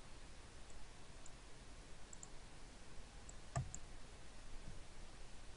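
A single sharp click of a computer mouse stands out against faint steady hiss, with a few softer ticks scattered around it and no talking.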